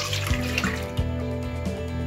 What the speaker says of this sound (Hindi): 2 कप दूध जो है वो डालूंगी।